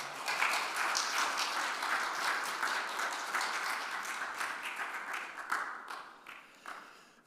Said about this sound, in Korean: 목사님 등단하실 때 박수로 환영해 주시기 바랍니다.